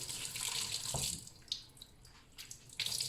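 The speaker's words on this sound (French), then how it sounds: "vous allez pouvoir venir rincer au-dessus de votre évier" Tap water runs over a Duopad cleaning pad being rinsed above a kitchen sink, a steady close splashing stream with brief surges and dips as the pad moves under the flow, and no voices.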